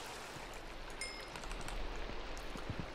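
Rain in the video game Minecraft 1.14 falls as a steady, soft hiss of drops on surfaces, continuous and even throughout, with a few faint low thumps near the end.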